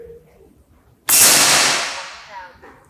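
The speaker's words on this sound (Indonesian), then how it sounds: "Tembakan yang pertama menggunakan mimis Hercules di jarak 20 meter." An SR Ironforce air rifle fires a single Hercules 13.6 green pellet at a 20-meter target, giving a sudden loud crack with a long, fading ring after it.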